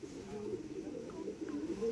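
Pigeons coo softly and continuously at close range in a village setting while a female bird is held up for display.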